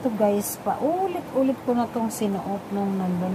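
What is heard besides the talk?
No everyday noises stand out.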